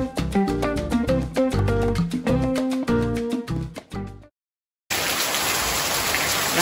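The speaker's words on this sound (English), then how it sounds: "this is my first real rain. I mean, it's actually splashing onto my porch today" Rain splashing onto a porch, a dense, steady hiss of drops that starts abruptly after a stretch of music and a moment of silence.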